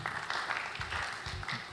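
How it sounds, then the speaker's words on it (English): An audience at an SPE African Region section officers workshop gives a round of applause, with steady, fairly faint clapping filling the whole stretch. "Round of applause for them, please."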